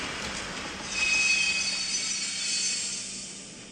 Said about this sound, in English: when you do, it plays a sound of brakes being applied